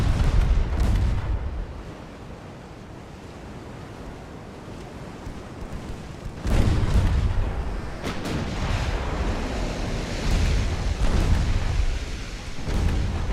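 A torpedo launches during a naval battle in Ultimate Admiral: Dreadnoughts, set in 1890 with a US fleet, heard as a heavy rumbling whoosh amid continuous sea-like wash and booming swells, loud and without speech.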